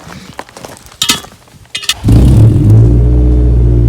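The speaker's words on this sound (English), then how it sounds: "exhaust sound is up here because there's a hole in the bottom" A few sharp clicks and rustles, then a car engine roars to life and holds a loud, raspy, rumbling exhaust drone through a hole in the bottom of the exhaust, revving slightly.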